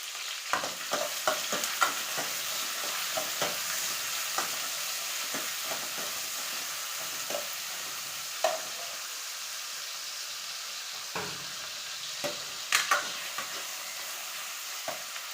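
Mustard seeds, curry leaves and small onions fry in a pan for tempering, a steady close sizzle with repeated scraping stirs and occasional pops.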